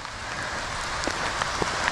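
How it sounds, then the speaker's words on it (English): Rain falls steadily in Cairns in summer, a close, even hiss with scattered louder drops pattering on nearby surfaces throughout. "Just as the rains come down, check this out."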